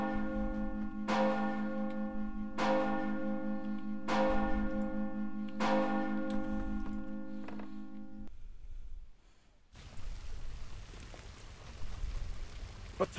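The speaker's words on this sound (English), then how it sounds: "What is that? The town bells!" Town bells ring in the LOTRO game, five or six loud, resonant tolls at a steady pace that hum on, then fade into soft rain-like ambience.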